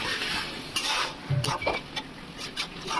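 Onions stirred in a pan while softening for beef do pyaza: a steady soft sizzle with repeated scrapes and light knocks of the spoon against the pan, close and moderately loud, with no talk.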